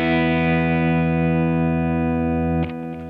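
Electric guitar strumming a movable power chord shape with the unfretted strings ringing open across all six strings, a single distorted chord sustained loud and alone before being cut off with a brief scrape.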